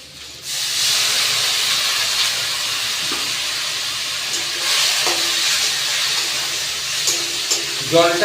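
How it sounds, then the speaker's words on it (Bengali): Water splashed into a pan of frying spices and tomato for a dried fish and duck egg curry sets off a sudden loud, close hissing sizzle that holds steady to the end, with a few light stirring clinks and no voices. "জলটা দিলাম যদি মশলাগুলো পুড়ে না যায়"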